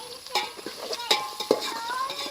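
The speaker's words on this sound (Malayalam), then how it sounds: "ചോറിലുള്ള ഉള്ളി നമുക്കൊന്ന് വാട്ടിയെടുക്കാം. ഉള്ളി ഒന്ന് വാടട്ടെ" Sliced onions for ghee rice being stirred and softened in a hot pan, with a soft sizzle under scraping spatula strokes and occasional clinks of utensil against metal, close and moderately loud.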